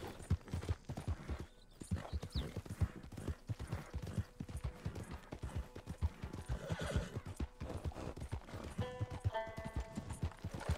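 A horse in Red Dead Redemption 2 gallops at full sprint, hooves pounding in a fast, continuous rhythm, with loud neighs and whinnies rising over the hoofbeats and brief game-interface tones near the end.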